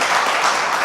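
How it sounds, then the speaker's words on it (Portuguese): A church congregation applauds in a dense, even wash of clapping, loud and continuous throughout the short moment. "Você pode aplaudir Jesus?"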